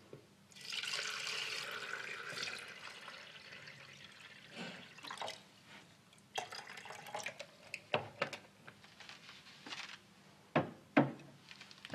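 About half a liter of water is poured into an electric kettle, a faint splashing stream followed by scattered drips, knocks and handling sounds in a quiet room.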